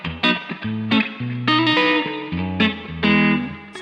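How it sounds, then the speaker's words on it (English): Electric guitar played through a Strymon Big Sky pedal set to a modern spring reverb: short picked chords and single notes ring out, each with a washy, shimmering tail, with no voices. "Sort of a more modern spring reverb"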